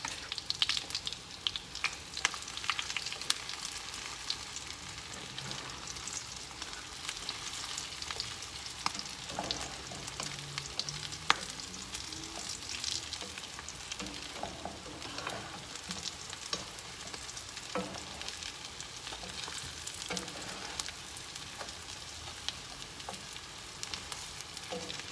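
Tuna patties fry in a pan with a soft, continuous sizzle and crackle, fairly quiet and close, with occasional faint pops and stirring noises.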